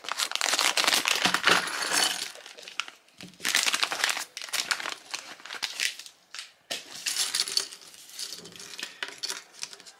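Plastic LEGO Minifigures Series 21 blind bags crinkle and crumple loudly as they are torn open and handled, in repeated bursts with brief pauses, close up and without talk.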